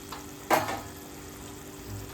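A frying pan of egg curry with tender tamarind leaves gives one brief burst of sizzle as the leaves go in. A softer stirring scrape follows near the end.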